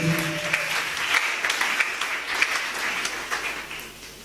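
A church congregation claps together in a dense, sustained burst of applause that fills the room, then gradually thins and fades away.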